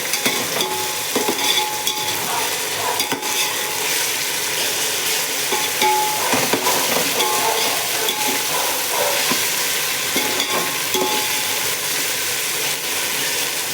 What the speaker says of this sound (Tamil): நல்லா ஃப்ரை பண்ணணும்.